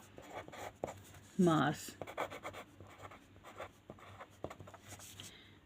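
Pen scratching on paper while writing math notes, with short faint strokes and taps close by under a man's steady speech.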